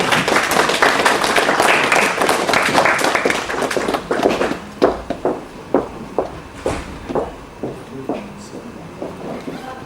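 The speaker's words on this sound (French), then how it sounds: "et on l'applaudit" An audience at a general assembly applauds with dense, sustained clapping that thins out over several seconds into a few scattered, isolated claps.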